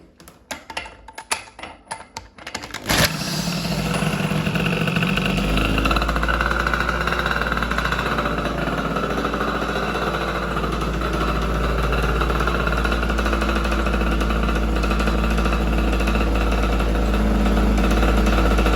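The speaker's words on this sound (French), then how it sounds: "Allez, un petit démarrage, mais vite fait" A few seconds of clicks and small knocks come first, then an engine cranks and catches at about three seconds and settles into a loud, steady, low idle that runs unbroken to the end.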